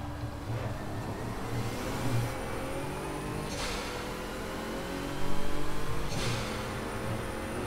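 An Audi R8 LMS race car engine in Project CARS drones steadily at high revs with a couple of brief surges. The loud, continuous simulated racing sound is heard alone on the Nürburgring track.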